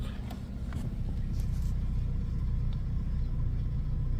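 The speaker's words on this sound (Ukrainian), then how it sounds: "И заводим, и заводим машину." A VAZ 2110/2112 or Priora car engine idles with a steady low rumble throughout, its hum constant and fairly close, with no voices.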